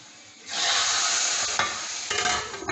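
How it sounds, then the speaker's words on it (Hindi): A hot oil tempering is poured over whole masoor lentils, setting off a sudden loud sizzle that holds for a couple of seconds with a few stirring clinks at the end. "हमने बघार लगा लिया अपने साबुत मसूर को।"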